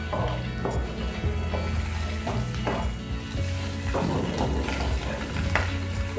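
Onion and chilli tempering in hot oil for Odia santula, a mixed vegetable dish, with a steady close sizzle and repeated stirring scrapes of a spoon against the pan.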